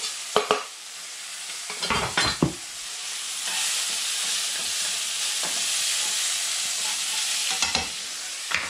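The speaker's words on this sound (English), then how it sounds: "I'm just going to add my garlic for flavour" Garlic frying in a pan for spaghetti carbonara, a steady close hiss and sizzle that carries through, broken near the start and end by a few clanks and stirring knocks.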